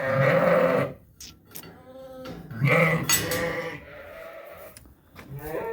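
Ewes and lambs bleat loudly and repeatedly in a lambing barn, several overlapping calls close by with brief pauses between them.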